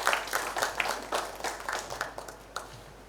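An audience applauds to welcome the artist Somu Desai onto the stage, a thin, scattered patter of claps at moderate distance that rises and falls unevenly over a few seconds.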